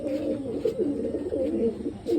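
Young pigeons coo in the rain, soft repeated throaty calls rolling one after another, near and moderately quiet over a faint background hiss.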